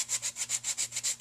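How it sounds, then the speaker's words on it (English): Sanding block rubbed back and forth over a crease, about eight even, raspy strokes in quick rhythm, close and clear with no voices. "then you're going to take a sanding block, which is a block covered in sandpaper. Okay, so then you just sand."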